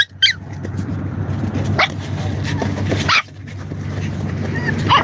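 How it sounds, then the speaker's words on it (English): Small dogs yip and bark in short, scattered bursts over a steady low background hum, with a whimper-like whine mixed in. "the little puppies"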